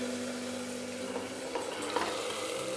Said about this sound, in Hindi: मसाला भुनने के बाद मैं इसमें डालती हूँ चने की दाल।